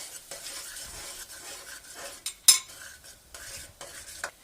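Crushed garlic and ginger stirred and roasted in a pot for stew chicken karahi, a spoon scraping with soft sizzling and one sharp metallic clink partway through, no talking.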